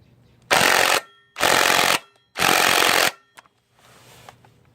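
An impact driver hammers a GY6 clutch nut in three loud, close bursts of about half a second to a second each, separated by short pauses, followed by a few faint clicks and a softer trailing buzz.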